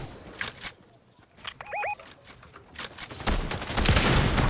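Gunfire in the Fortnite video game: scattered sharp shots early on, then a dense, loud burst of rapid fire near the end over a busy game soundscape, with no talking.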